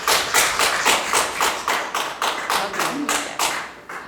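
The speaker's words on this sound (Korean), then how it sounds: "박수로 맞아주십시오" An audience at a woodblock print demonstration claps to welcome the artist, loud, near hand claps falling in an even rhythm of roughly three per second, with no talking.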